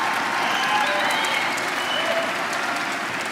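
Sustained audience applause at a political speech on rights and democracy, a dense and steady wash of many hands clapping at full volume throughout, with no break in the sound.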